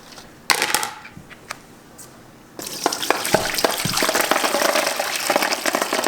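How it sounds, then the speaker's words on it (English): Dry beans rinsed under a strong stream of cold tap water and stirred by hand, a few splashes first, then steady running water with clattering, swishing handling throughout, close and fairly loud. "I use cold water. It's a little powerful. And just move them around, make sure all of them get rinsed."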